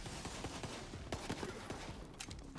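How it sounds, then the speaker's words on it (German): Rapid bursts of gunfire in the video game Borderlands 3, a steady rattle of repeated shots at moderate distance, fairly quiet overall. "die schießen da die ganze Zeit"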